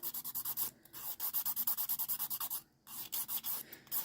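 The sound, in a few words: filing a dip powder nail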